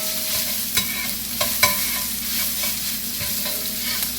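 Sausage sizzles steadily in a hot frying pan, a constant close crackle broken by a few scraping stirs of a utensil.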